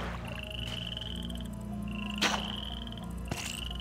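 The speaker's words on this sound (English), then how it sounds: "You can shoot the frogs. That's always fun." Frogs croak in a swamp in the video game King's Quest 8: steady, repeating calls that sound close and clear, broken by a couple of sharp bursts.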